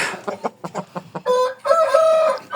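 A Korean rooster crows once near and loud, its long harmonic call held for about a second after a few short clucking notes.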